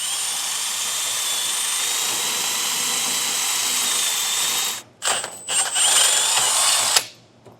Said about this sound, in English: So get your 3/8 drill bit and start drilling.